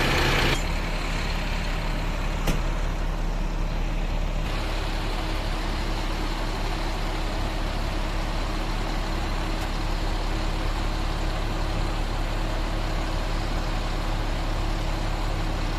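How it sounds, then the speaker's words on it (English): MAN TGS 40.400 truck cab tilting back down into position, a steady loud mechanical hum and engine-like drone running throughout with a sharp click near the start and no talking. "Cabin moving back on its position."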